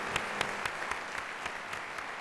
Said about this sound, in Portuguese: Aplausos.